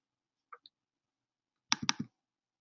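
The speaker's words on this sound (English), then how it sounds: "Choose the file by clicking Choose File button" A computer mouse clicks a Choose File button: two faint ticks followed by a quick cluster of sharper, louder clicks, close and isolated in otherwise silent surroundings.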